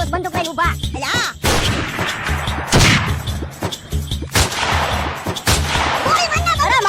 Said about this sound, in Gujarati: ફાયરિંગ કર ચાલુ રાખ